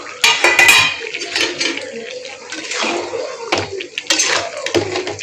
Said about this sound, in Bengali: এখন হচ্ছে ভালো করে মিলাই নিই।